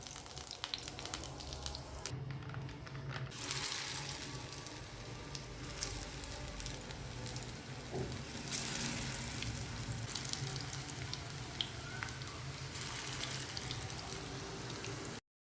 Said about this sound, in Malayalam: ഒരുപാട് നേരം എണ്ണയിലിട്ട് ഫ്രൈ ചെയ്യേണ്ട ആവശ്യമില്ല